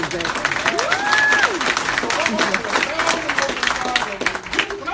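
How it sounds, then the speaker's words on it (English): An audience claps through a round of applause while a speaker keeps talking loudly over it, the clapping forming a dense, steady patter beneath the voice. "that deserves a round of applause"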